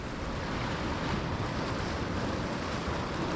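Wind and waves roar steadily at a winter shoreline during cod lure fishing, a loud unbroken rush of surf and gusting air buffeting the microphone, with no talking.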